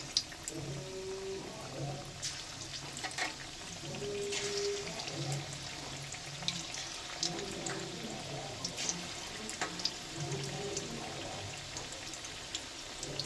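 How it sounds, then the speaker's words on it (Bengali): Dragon chicken pieces frying one by one in hot oil: a steady, crackly sizzle with scattered pops and spits, fairly close and continuous, with faint kitchen handling sounds and no talk. "এবার এইগুলোকে ভাজবো সবকটা।"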